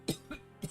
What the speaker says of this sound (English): Coughing out of nowhere.